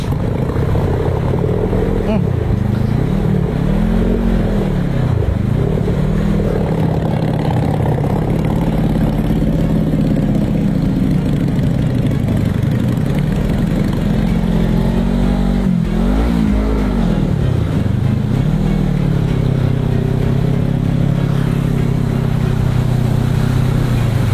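A car pushes through deep flood water in Subulussalam, its engine held at steady high revs with rising and falling surges and water churning, loud and close throughout; voices are faintly mixed in.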